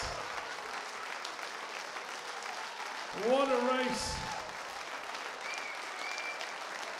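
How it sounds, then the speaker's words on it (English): Steady applause from a large crowd at a county swimming championship fills the space, with a voice briefly speaking over it partway through. "Fantastic round of applause there."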